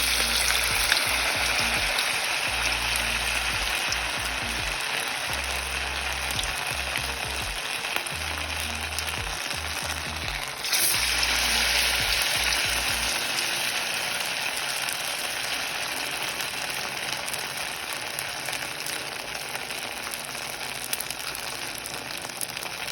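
Steady crackling sizzle of a flattened rice and vegetable pancake frying in hot oil, continuous and close, with a brief louder spatter partway through.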